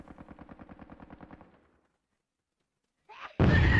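Rapid machine-gun burst in the video game Hogs of War, about fifteen quick evenly spaced shots over a second and a half, then silence before a loud blast crashes in.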